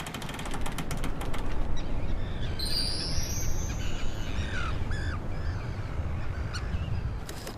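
Terns calling as they dive in aerial raids over a polar islet, sharp harsh cries rising above steady wind and surf noise, several calls close together in the middle.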